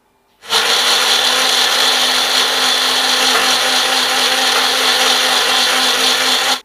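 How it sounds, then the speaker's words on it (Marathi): A mixer grinder blends lassi with powdered sugar, a loud steady whirring roar from start to finish with no talk over it. "आता हे आपण मिक्सरला फिरवून घेऊयात."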